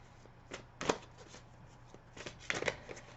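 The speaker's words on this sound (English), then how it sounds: "So I'll pull 3 cards," Tarot cards being shuffled by hand, with soft papery riffles and taps at an irregular pace, close and fairly quiet.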